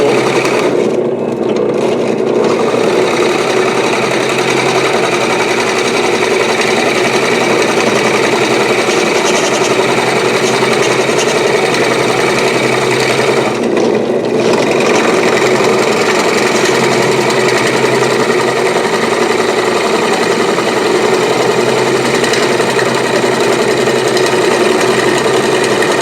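Power tool carving out a wooden model ship hull, a loud, constant high-pitched whine and grind running nearly unbroken throughout, with two brief dips.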